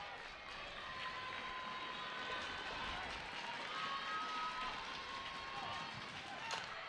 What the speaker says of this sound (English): Crowd can sense the moment here at Jack Turner.